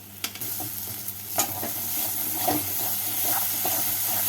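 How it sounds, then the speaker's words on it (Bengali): Masala sizzles loudly in a pan with a spoonful of sugar as a spoon stirs and scrapes at intervals, a continuous close frying hiss with no talking. "চিনি দিয়ে মশলাটাকে একটু সময় ভেজে নেবো"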